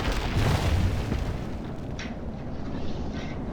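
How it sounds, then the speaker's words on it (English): Siege artillery bombarding a city in Rome: Total War, a dense continuous rumble of booms and impacts, loudest at the start and then holding steady, with no voices. "So I'm bombarding those urbans of Julius Seizure as well"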